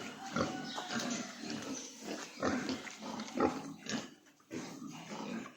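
Farm pigs grunting and snorting in a pen after washing and feeding, a steady jumble of close, low grunts from several animals throughout, with no talking.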